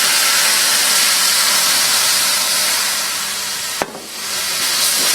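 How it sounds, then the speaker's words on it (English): White wine poured into a hot sauté pan for chicken piccata sends up a loud, steady sizzling hiss, with a brief sharp crackle near the end and no talking. "Now we add some white wine."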